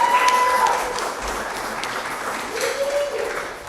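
Audience applause at a reading event, a steady wash of clapping at moderate level with some crowd noise and faint voices mixed in across the whole stretch.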